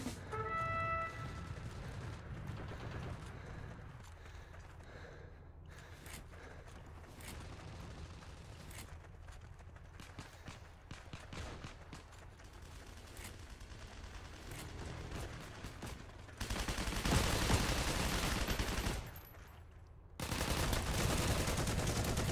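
Gunfire rattles in rapid bursts and scattered single shots during a Heroes & Generals wartime battle, fairly faint at first, then louder, denser volleys near the end against a low rumbling background.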